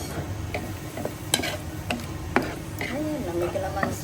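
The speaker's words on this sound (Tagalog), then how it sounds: "Ipiprito ko yung atay." Liver fries in a pan with soft sizzling while a utensil stirs and clinks against the metal, with voices talking faintly in the background.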